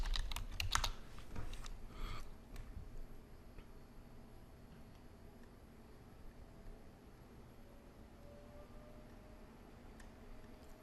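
A short burst of quick keystrokes on a computer keyboard opens the stretch, clicking close and crisp, then gives way to a faint, quiet room hum with a few isolated taps.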